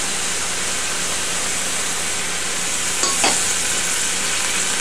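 Capers, olives and garlic fry in a pan for a Spanish eggplant sauce with tomato and wine, producing a loud, continuous, even sizzle and a brief scrape of a utensil partway through.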